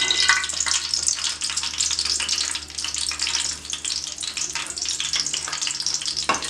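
Cumin seeds sizzle loudly in hot oil in a home kitchen pan, a steady crackling hiss that stays close and continuous with a brief dip midway.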